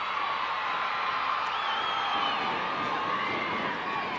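Tulsa wrestling arena crowd cheering in a dense, continuous roar with scattered whoops and high shouts rising above it, loud and sustained throughout.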